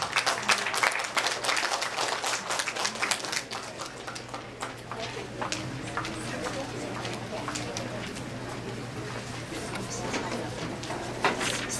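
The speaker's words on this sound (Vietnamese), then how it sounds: "Quý tràng pháo tay thật lớn cho nhà văn Hà Nguyên Lãng ạ." An audience at a Vietnamese book event applauds to welcome a writer, steady mid-level clapping running the whole stretch, with a constant low hum and murmured talk underneath.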